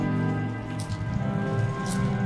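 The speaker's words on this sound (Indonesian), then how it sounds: "Gerimis, Cok." Light drizzle falling outdoors, a soft steady patter of fine raindrops with occasional faint drips, heard alone over a constant low background hum and tonal drone.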